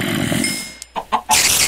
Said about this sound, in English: I'm a mother of a baby chicken.